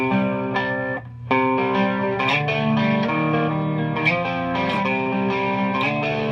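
Clean electric guitar through an Electric Mistress flanger-chorus pedal set for flanging, giving a sustained, swirling chordal tone with a brief pause near the start, played alone and fairly loud.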